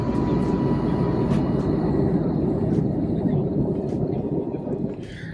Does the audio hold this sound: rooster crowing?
no